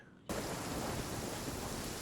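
Rain in the Genshin Impact video game starts abruptly after a brief quiet moment, then pours as a dense, steady wash of noise that stays loud and even to the end.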